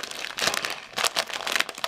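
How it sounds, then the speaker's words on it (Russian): Crinkling plastic packet of wheat grain being opened at its sealed top, loud close rustles and crumples in several bursts, with no talking. "Здесь вот такой пакетик. Сверху запаянный."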